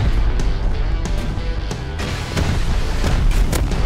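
A video game explosion blowing up several players hits hard and loud, with a cluster of deep booms and sharp bursts over a dense, rumbling battle backdrop.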